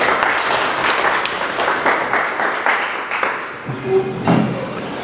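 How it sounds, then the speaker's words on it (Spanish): Audience applause for a lecturer at a talk on the 1917 Mexican Constitution: a full burst of crowd clapping that holds steady, then thins out and fades toward the end. "el cual le damos un fuerte aplauso"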